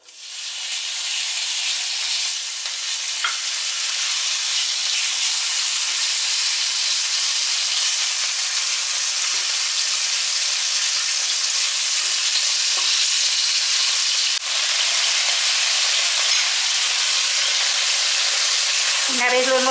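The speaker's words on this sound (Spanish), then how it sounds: "lo primero que vamos a hacer es freír un poquito las migas o los trocitos de bacalao" Small pieces of cod frying in oil in a pan, a loud, steady close hiss and sizzle that runs almost unbroken for the whole stretch, with no talking.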